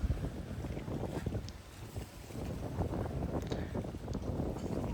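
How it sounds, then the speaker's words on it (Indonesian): Speedboats ferry passengers between the Gili islands off Gili Trawangan in bad weather. A low engine and water rumble mixes with heavy wind buffeting on the microphone. "Ini ada beberapa speedboat yang membawa tamu antar pulau"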